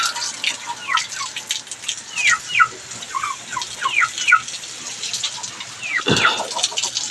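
A hen gives several short chirpy calls that repeat against a steady hiss of running water, with a sharper squawk near the end.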